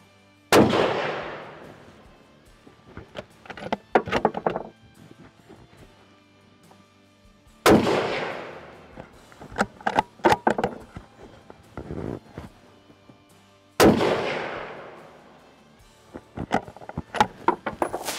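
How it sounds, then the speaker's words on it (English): A Springfield Armory Redline Model 2020 rifle fires three loud, sharp shots outdoors, spaced about seven seconds apart. Each shot is followed by clinking and handling noises as the shooter works the rifle between rounds. "So let's do some shooting."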